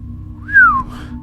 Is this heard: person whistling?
yes